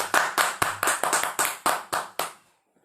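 Clapping for honored guests at an event: about ten loud, close, rhythmic claps with a slight ring after each, ending abruptly into silence.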